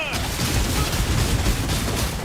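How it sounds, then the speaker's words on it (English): A thrown bomb bursts in midair in a Path of Exile match, a dense rumbling blast of booming, crackling gunfire-like noise that fills the whole moment, loud and sustained rather than a single clean bang. "Oh, it blows up in the air."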